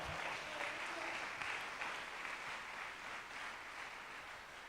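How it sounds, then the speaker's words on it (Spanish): A church congregation applauds together during a worship service, giving a steady, moderately faint wash of clapping that runs the whole time with no talking over it. "Vamos, denle ese aplauso al Señor."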